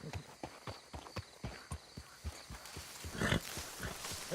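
Horse hooves clip-clop in Red Dead Redemption 2, a regular walking rhythm of distinct close thuds that grows busier toward the end, with faint background noise between steps.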